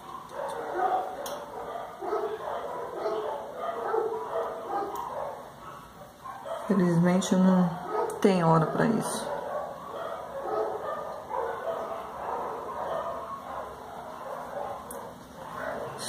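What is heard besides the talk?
many street dogs barking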